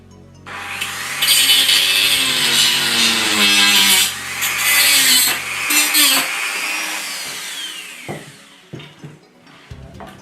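A stone grinds down the case of a BBC Micro computer being converted into a PC, giving a sustained rough scraping rasp with a ringing edge for several seconds before it trails off into scattered knocks and handling noises.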